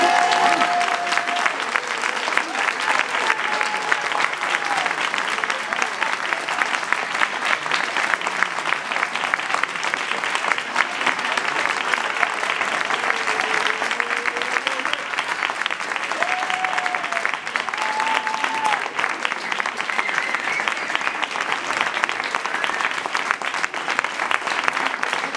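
A theatre audience applauds a play in a long, loud, unbroken wave of many clapping hands, with a few faint voices and whistles rising briefly within the roar.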